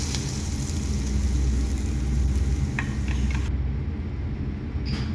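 Onions frying in a pan for a Bangladeshi biryani, a loud continuous sizzle with occasional stirring scrapes, close and steady with no talking.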